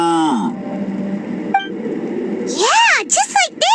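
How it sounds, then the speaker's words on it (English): Cattle mooing in the video game Genshin Impact, a series of long, loud sweeping moos, one early and several overlapping near the end, mixed with a brief electronic beep in between. "There were cattle mooing constantly."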